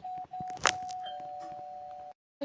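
A doorbell in the Roblox game Brookhaven RP rings as a sustained electronic ding tone, broken by a brief click and a short pause, ending in silence before a faint second chime starts.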